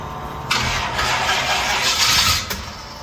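Engine of a 1940 Ford from a car hoard cranking loudly and continuously as the starter turns it over on its first start attempt, a sustained rough churning with no clean catch.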